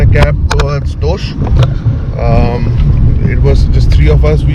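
Ride in a hired Alto cab heading toward Tosh in Himachal, a loud steady engine and road rumble inside the car, with people talking over it throughout.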